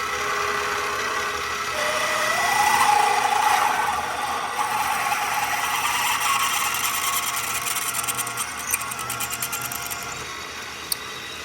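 An X2 mini mill drills an 11 mm hole in a part for a PMC IMP diesel model airplane engine, giving a steady whirring motor whine with faint cutting chatter near the end.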